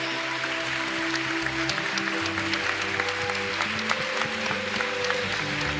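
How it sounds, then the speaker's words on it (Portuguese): A church congregation applauds during a worship service, a dense wash of clapping over sustained organ or keyboard chords and background music, fairly loud and continuous. "E nós vamos dar a Jesus um aplauso pela vida deles."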